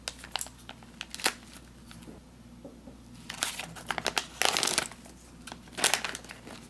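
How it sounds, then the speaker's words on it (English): An MRE snack mix pouch with no tear notch is cut open, giving soft crinkling and crackling of the foil-plastic wrapper in scattered close bursts, louder near the end. "With the snack mixes, these don't have a tear notch on them, so you actually have to cut these open."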